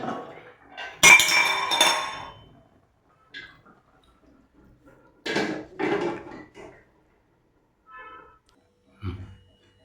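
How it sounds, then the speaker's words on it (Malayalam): Food being stirred in a pot with a utensil, heard as scattered metallic clinks and scraping knocks in short separated bursts with quiet gaps between. "നമുക്കൊന്ന് ഇളക്കിയിട്ട് കൊടുക്കാം കേട്ടോ"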